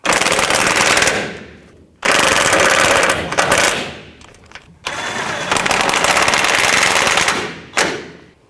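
Impact wrench running in loud sustained bursts, three long rattling runs with brief pauses, as bolts are driven down on the front sway bar bushing brackets of a 1997-2004 Dodge Dakota.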